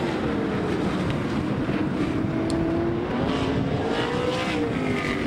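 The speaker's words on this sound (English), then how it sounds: "Lap cars racing with your leaders all around the racetrack." 410 sprint cars race around a dirt track at Knoxville, making a continuous roaring engine drone heard from a distance with wind buffeting the microphone and no voices.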